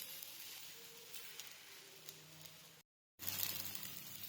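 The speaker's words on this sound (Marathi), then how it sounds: "ते थोडंसं तेल टाकून घेऊया, वरती आपण हे थालीपीठ टाकूया" A thalipeeth flatbread fries in oil on a pan, a soft, steady sizzle that cuts out briefly and then returns louder and brighter.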